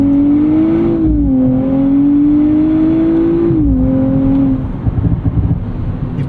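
The 3-liter engine of a 2024 Nissan Z Nismo revs hard from inside the cabin, a loud, steady rising drone with a brief dip as a gear shift lands, then settling into a rougher rumble.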